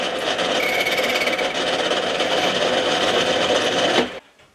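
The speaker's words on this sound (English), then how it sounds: "start by facing off the end of our brass bar" A metal lathe faces off the end of a brass bar, giving a steady, dense whirring and cutting rasp at close range that stops abruptly near the end, with no one talking.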